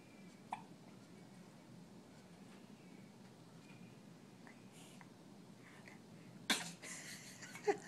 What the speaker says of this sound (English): Oh, and the hiccups didn't go away.